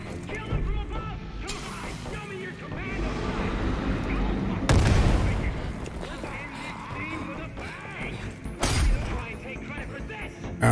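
Gunfire and explosions in the video game Far Cry 5, a dense, loud barrage of shots and blasts with two sharp heavy bursts standing out over continuous combat noise.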